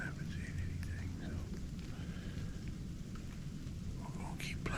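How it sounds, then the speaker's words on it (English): Steady heavy rain falls outdoors during a cold deer hunt, a dense continuous hiss close around the listener with no pauses, and no speech over it. "but this rain is horrible."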